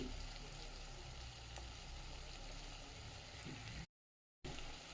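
Capsicum (bell pepper) frying in a pan with salt, turmeric and chilli powder, giving a steady, dense sizzle that carries on evenly throughout, broken only by a short gap of silence near the end.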